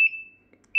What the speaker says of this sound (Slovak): tu mám pripojený alarm, aby ste videli, že to funguje